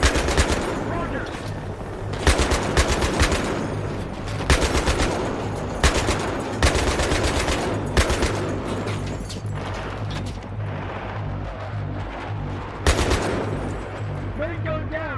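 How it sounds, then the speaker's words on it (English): Heavy gunfire in the video game Battlefield 3: loud, dense machine-gun bursts and explosive shots pound almost without pause in urban combat, with voices calling out under the din. "We are under heavy fire, heavy fire."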